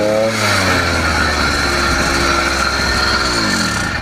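A small 80cc two-stroke motorized bicycle engine revs steadily while the bike sits stationary with a rich-sounding jet setting, its pitch climbing and falling in loud, continuous sweeps with no talking.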